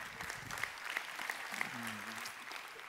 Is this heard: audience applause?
yes